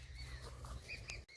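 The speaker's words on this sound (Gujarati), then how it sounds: "અહીંયા જુઓ ચકલાનો કેવો અવાજ આવે છે સરસ" Sparrows chirping outdoors in the evening, a few short high calls heard faintly over steady low background rumble, ending in a brief cut.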